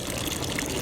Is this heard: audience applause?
no